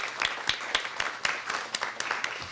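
An audience at an Assyrian Aid Society event applauds its volunteers and donors with brisk, fairly rhythmic clapping from a modest crowd, sharp individual claps standing out over a light background.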